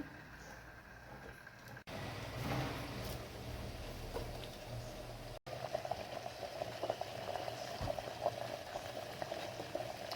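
Balls of chivali greens cook in a pot of boiling water, a close, steady bubbling and hissing that carries on throughout with no talk.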